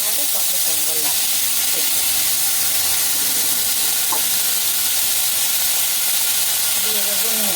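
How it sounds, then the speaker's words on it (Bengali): Yardlong beans frying in a pan over low heat, a loud, continuous close-up hiss and sizzle with occasional stirring scrapes; a voice speaks faintly underneath. "বরবটিটা নিভা নিভা জালে সুন্দর করে শুকনো, যত ভাজাটা ভালো হবে তত সুন্দর লাগবে"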